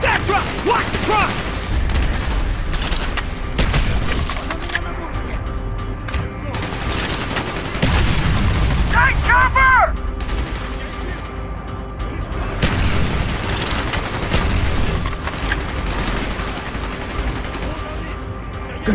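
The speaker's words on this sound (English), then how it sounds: "Gunfire's drawing attention." Heavy gunfire in a Call of Duty: Black Ops firefight, rapid automatic bursts and booming shots crackling nearly nonstop, loud and close, with shouted voices mixed in.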